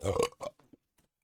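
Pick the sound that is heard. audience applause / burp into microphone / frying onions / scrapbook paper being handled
burp into microphone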